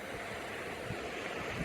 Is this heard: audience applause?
no